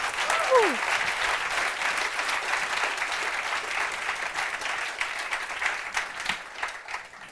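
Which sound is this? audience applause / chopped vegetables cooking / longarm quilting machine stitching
audience applause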